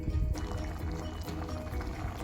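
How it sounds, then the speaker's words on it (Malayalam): Cooking water drains off boiled jackfruit in a kitchen, a close, continuous pouring splash with a heavier burst at the start, then a steady stream. "ഇതിൽ നമുക്ക് വെള്ളം ഊറ്റി കളഞ്ഞിട്ട് നമ്മൾ അരച്ച് വെച്ച തേങ്ങ ഇതിൽ ചേർക്കാം."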